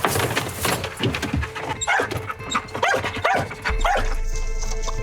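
A gendarmerie search dog on a missing-person search gives a burst of close, loud barks and yelps, with a few rising whimper-like cries between them, followed by a low engine rumble.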